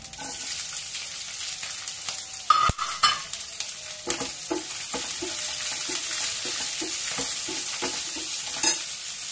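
Chopped green chillies and onions sizzle in a hot pan, a steady frying hiss broken by a sharp clatter and repeated scraping stirs of a spoon against the pan.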